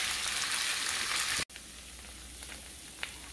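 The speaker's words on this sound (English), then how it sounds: "We're going to let this beef cook until it's done." Beef sizzling in a hot pan, a steady loud hiss that drops out briefly and comes back softer with faint crackles, close by and with no talking.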